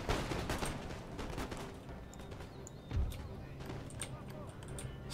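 Musket volleys from an eighteenth-century battle in the strategy game Empire: Total War, with scattered distant pops and a crackling, uneven fusillade beneath a talking voice, plus one heavier thump midway.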